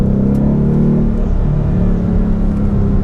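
A 2019 Ford Mustang GT 5.0 with the PP2 package takes corners on a mountain road, its V8 holding a steady loud rumbling drone with slight rises and dips in pitch throughout.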